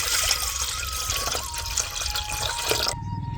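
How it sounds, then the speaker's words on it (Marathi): Water pours into a cooking pot in a home kitchen, a steady close splashing fill that runs continuously and then cuts off abruptly near the end. "आता पाणी टाकायचं."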